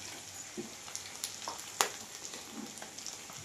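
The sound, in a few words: goat offal frying in a pan before spices are added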